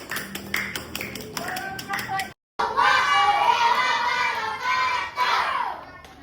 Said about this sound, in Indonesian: Terima kasih kelompok 2 silakan tepuk tangan